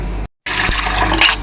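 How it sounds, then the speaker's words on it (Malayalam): Water pours into a mixer grinder jar in a kitchen, a short loud splashing gush that breaks for an instant and resumes, with no one speaking. "നമ്മൾ മിക്സിയുടെ ജാറിലേക്ക് കുറച്ച് വെള്ളം ഒഴിച്ച്"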